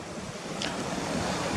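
A river stream near old mine ruins flows steadily, a broad continuous rushing wash of water heard close with light wind over the microphone and no speech.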